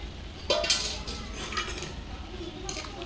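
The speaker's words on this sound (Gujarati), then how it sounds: "નાખી દઉં હવે બટેકા" Potatoes tipped into a pan with metal utensils clinking against it, a sharp clatter followed by scraping and lighter clinks over a low sizzle.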